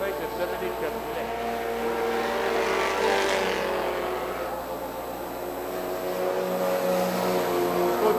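Four- and six-cylinder race cars accelerate around the track at Autodrome Granby, with engine whine rising and falling as they pass, under a commentator's voice.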